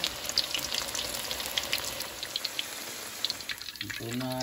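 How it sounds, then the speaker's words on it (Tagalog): Okoy, crispy Filipino fritters, deep frying in hot oil, giving a steady close crackling sizzle with scattered pops and bubbling throughout, and brief clinks near the end. "Deep fry."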